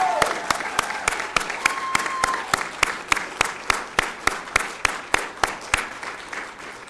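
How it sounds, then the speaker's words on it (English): A crowd applauds a company team at a Nasdaq ceremony, with steady clapping throughout. A loud, regular rhythmic beat pulses through the applause. "I think we need to start off with a loud round of applause for this team."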